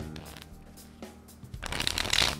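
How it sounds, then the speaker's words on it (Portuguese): A riffle shuffle of playing cards during a magic trick, with faint card flicks early on, then a dense, rising burst of crisp riffling paper that grows loud and close toward the end, no talking. "O embaralhamento americano,"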